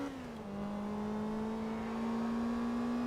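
A supercharged car engine in the racing game Forza Motorsport 2 holds a steady, smooth drone with a slight pitch dip early, then settles into an even, quiet whine with no talk.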